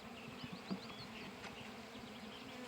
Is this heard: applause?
no